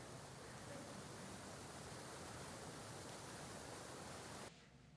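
Creek water rushes along as a steady, dense broadband wash, loud and unbroken for about four and a half seconds before dropping sharply to a fainter flow at the end.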